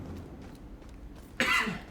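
A single rough cough bursts out near the end after quiet background murmur, close and fairly loud.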